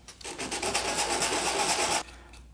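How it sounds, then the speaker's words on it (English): A motor mount for a DIY automatic dog ball launcher being sanded with 240 grit sandpaper, a close, steady rasping scrub that lasts about two seconds and then stops abruptly. "But first we need to sand this a little bit so it's smoother."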